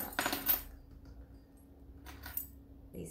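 Keys for a keyed meter box lock are handled, giving two quick, close metallic jingles separated by near silence.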